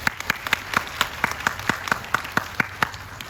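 Sparse applause from a small audience at a Korean film press talk event, a handful of distinct, sharp claps in an irregular rhythm, fairly close and moderately loud, with no talk over it.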